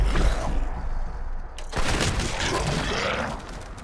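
Weapon hits detonate in a video game with Gauss weapons, a burst of loud, dense explosive impacts at the start, then a second rumbling blast sequence after a brief lull, close and heavy with no talk.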